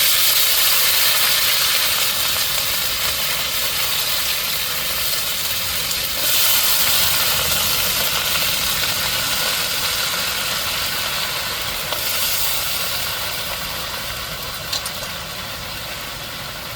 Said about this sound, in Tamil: இப்போ தாளிப்பில் நம்ம சேர்த்துருவோம் வாழைப்பூவை.